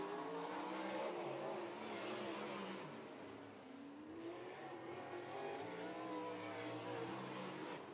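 Sprint cars thunder around Hilltop Speedway during a heat race, a loud continuous roar of racing engines rising and falling as cars pass close by, with steady revving throughout.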